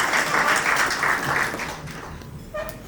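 An audience at a retirement function applauds a senior administrator as he comes forward, steady dense clapping that tapers off, followed by a few stray claps and a brief voice.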